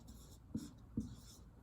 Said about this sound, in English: And I'll write the word purple.